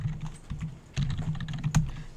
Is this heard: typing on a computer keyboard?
yes